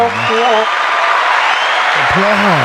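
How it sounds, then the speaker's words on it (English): Applause and scattered crowd noise wash steadily through the middle, with a voice talking at the start and end. "Applause for people joining."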